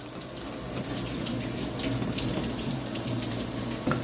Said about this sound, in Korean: 틀리 또 소독한 거 이제 헹구고 계십니다